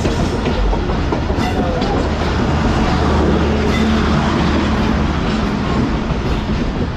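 The Business Express passenger train running between Karachi and Lahore, hauled by a ZCU-20 locomotive, rolls past in Pakistan with a steady heavy rumble and rhythmic clickety-clack of wheels on rail joints, loud and close throughout.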